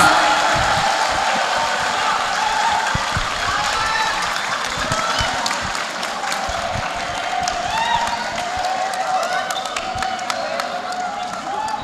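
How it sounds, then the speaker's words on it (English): An audience at a TOEFL seminar in Jakarta claps continuously for several seconds, a dense, steady patter of many hands with some voices mixed in. "give big applause"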